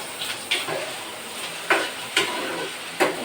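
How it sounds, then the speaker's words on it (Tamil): Steady frying sizzle of onion and garlic sautéing in a pan, punctuated by several sharp clinks of a utensil stirring against the metal. "இது நல்லா வதக்கலாம்"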